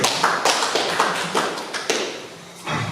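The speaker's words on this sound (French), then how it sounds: "je demande d'applaudir bien fort" Hand claps ring out in a steady, even rhythm from an audience at a gathering, a brisk run of sharp claps that fades slightly toward the end.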